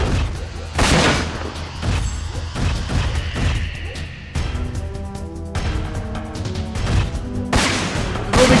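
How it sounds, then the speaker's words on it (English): Heavy mech gunfire in Front Mission 4 pounds out in repeated loud bursts and booming impacts across the whole stretch, a relentless battlefield barrage with no talk over it. "this guy will not stop shooting at Hermes"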